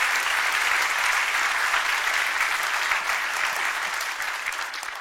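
A church audience claps to celebrate people who have just accepted Jesus, a loud, dense, sustained applause that fills the whole stretch and eases slightly toward the end.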